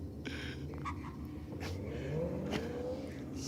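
A drag race car launches down the lane, its engine note rising in pitch as it accelerates away, heard from a distance over a steady droning background.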